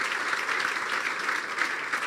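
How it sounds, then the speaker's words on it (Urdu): Church congregation clapping loudly after a sermon, a dense, steady wash of applause lasting the whole span with no talk over it. "پھر زوردار تالیاں بجا دیں۔"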